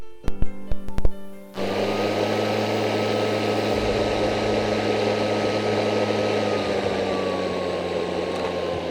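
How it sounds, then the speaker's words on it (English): A Greenworks dual-battery electric lawn mower with its blade engaged, running in turbo boost mode: a few sharp clicks, then a loud, steady, close whirring drone that holds its pitch throughout. "when I pushed that turbo button, the engine revved up, gave me more RPM"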